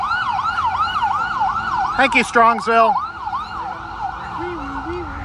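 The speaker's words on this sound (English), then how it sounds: "And here comes the ambulance" An ambulance siren wails loudly and steadily in a repeating up-and-down pattern as it passes a Buick car show in Strongsville, Ohio, with a brief burst of another siren tone and a voice speaking partway through.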